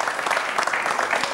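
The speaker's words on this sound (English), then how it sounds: "Give him a nice round of applause." A studio audience on a radio show gives a nice round of applause, brief dense clapping filling the room close and loud.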